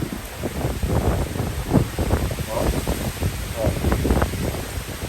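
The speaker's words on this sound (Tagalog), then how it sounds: "Grabe, lakas ng hangin." Strong wind in Bacacay, Albay, in the Bicol region of the Philippines, roars and buffets the microphone continuously, a dense rumbling gusty noise with no pauses.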